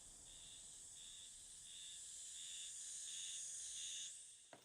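Cicadas shrill in a summer anime scene, a faint, steady high buzz pulsing in regular waves before cutting off near the end, with no talk over it.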